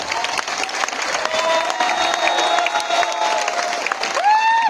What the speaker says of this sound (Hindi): जोरदार तालियां, खड़े हो गए।